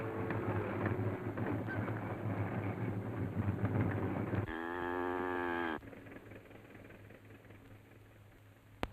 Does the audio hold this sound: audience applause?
no